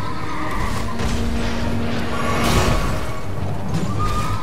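A horse neighs amid Elden Ring combat, its whinny rising over dense game noise, music and impacts, with a heavier crash near the middle and no talk.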